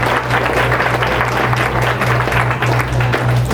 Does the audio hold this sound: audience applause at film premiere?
yes